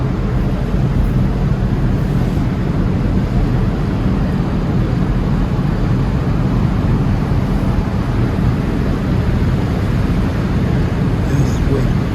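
Engines of the cruise ship Azura rumble steadily as the vessel pulls away from the dock, a continuous low, loud drone with broadband wash on top and no distinct events.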